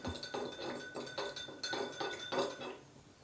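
A spoon stirring salt into water in a bowl to season couscous semolina, producing a rapid run of light, close metallic clinks and scrapes in a steady rhythm, faint overall and fading toward the end.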